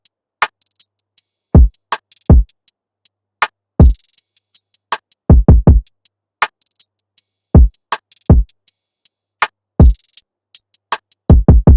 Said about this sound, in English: that hard hitting kick that sounds like this